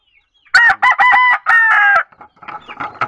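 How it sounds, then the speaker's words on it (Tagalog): Backyard roosters crow loudly and close, a burst of drawn-out, harsh calls in quick succession, followed by softer clucking from the chickens. "Guys, so, mga manok ko guys."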